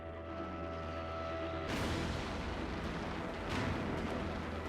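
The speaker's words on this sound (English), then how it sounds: "Facing an intense artillery barrage from the Americans, Bernhard is unable to fly close enough to t" Heavy booms from an artillery barrage rumble in the distance, two broad bursts of explosion noise rising over a dense, continuous low roar.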